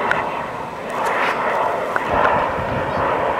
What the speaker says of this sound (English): That's Eurofighter.